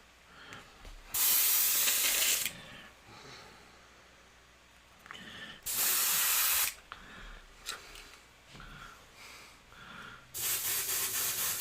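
Airbrush spraying red paint over a loose fire painting, heard as three loud, steady hissing bursts of a few seconds each, broken by quiet pauses.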